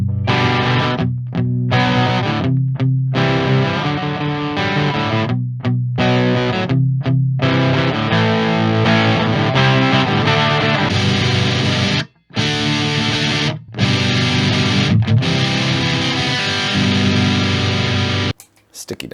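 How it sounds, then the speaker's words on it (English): A loud electric guitar, a Gibson Longhorn, with heavy overdrive plays thick, saturated chords and riffs. It continues almost without pause, with a few brief cutoffs. "when we go to the overdrive, it's gonna cause a heavier, thicker distortion"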